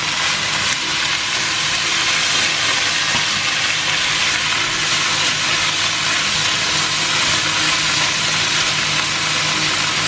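Stir-fried tofu, noodles and vegetables sizzle and fry in a hot pan, a steady, loud, continuous hiss with crackling spatter throughout, close by and without talk.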